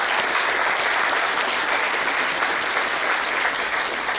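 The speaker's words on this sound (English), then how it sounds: "je pense qu'on devrait leur donner une bonne main d'applaudissements" Steady, dense applause from a large audience at an AI symposium in Montreal, honouring platinum sponsors, continuous and even throughout with no break.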